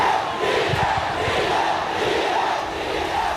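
A mammoth crowd cheers and roars at Vijay's first TVK political rally in Erode, a loud, dense, unbroken wall of voices that holds steady throughout, with no single speaker standing out.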